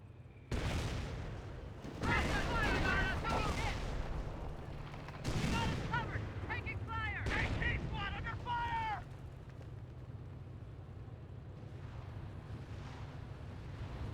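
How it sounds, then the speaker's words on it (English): Booming artillery bursts from a half-track barrage in the World War II strategy game Company of Heroes, several heavy blasts spaced across the clip over a constant low battle rumble, with game voices speaking between impacts. "Another Warframe half-track barraging on in."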